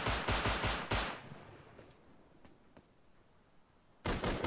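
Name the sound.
gunfire in the video game Rust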